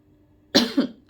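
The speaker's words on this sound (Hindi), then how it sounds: "सॉरी, गले में खांसी" A woman with a dry throat gives a single close double cough, two quick bursts after a moment of near silence.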